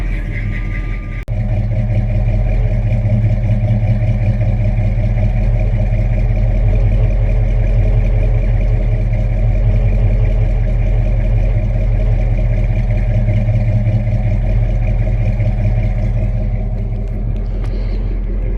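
A truck engine idles steadily for a long stretch with a deep, loud, continuous rumble, having warmed up for 15 to 20 minutes and showing a slight ticking, with no one speaking.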